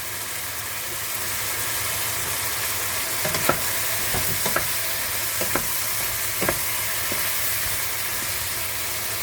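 Shrimp stir-fried in a wok, with a steady hissing sizzle throughout and a cluster of quick scraping spatula strokes in the middle of the clip.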